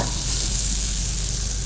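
Fenugreek leaves frying in a hot pan while being stirred, a loud continuous sizzle with scraping stir noise throughout a short stretch, no voices.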